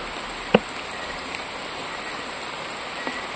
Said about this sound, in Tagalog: Grabe yung ulan dito.